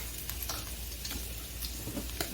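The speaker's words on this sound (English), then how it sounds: "So we're going to put in our shallots" Shallots sizzle and fry in a pan for chicken marsala, a soft steady crackle with light scraping and ticking of a spatula, fairly quiet and close.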